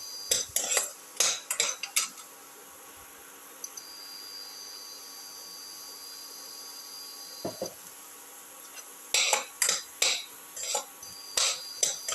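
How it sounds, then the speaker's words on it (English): Onions and shallots are sautéed in a pan, with bursts of rapid metallic spatula clinks and scrapes at the start and end and a quieter, steady stretch in between. "Saute until the onions and the shallots lose their"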